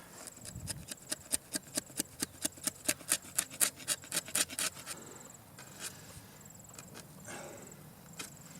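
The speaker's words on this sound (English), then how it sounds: "Taper it now with the chisel." Chisel tapering a cut on a wooden gate: a rapid series of sharp scraping, rasping strokes, then a few slower scattered scrapes, close and moderately loud.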